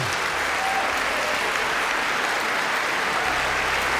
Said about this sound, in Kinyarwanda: Barahagurutse barongera bakoma amashyi, umwami Charles arimo aravuga ijambo